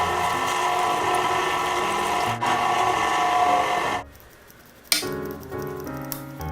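A mixer churns pumpkin whoopie pie batter with flour and milk, giving a steady, close mechanical grinding and whirring that drops out briefly and then resumes with a clunk.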